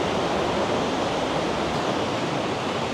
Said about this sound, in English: This water behind me is really moving. It is so loud.